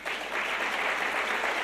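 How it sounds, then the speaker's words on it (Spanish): Audience applause fills a conference hall at a financial supervision conference, steady dense clapping sustained for the whole short stretch with no voices over it. "Gracias por los aplausos"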